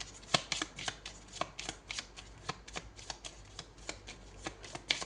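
Tarot cards shuffled by hand during a horoscope reading, a quick run of crisp riffling bursts and soft slaps repeating steadily for several seconds, close and moderately quiet, with no talk.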